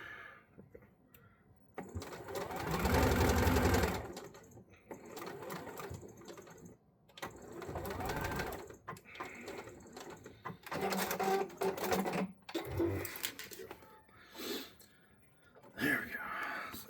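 A sewing machine stitches along a seam line while modifying a wrestling mask, running in loud bursts of rapid stitching separated by pauses, with a person talking quietly in between.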